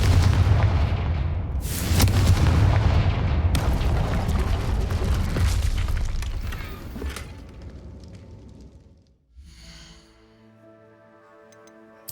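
Confringo fire spell explosion in Hogwarts Legacy, a heavy booming blast with rumbling low end and sharp cracks, followed by fading debris and a quieter game tone afterward.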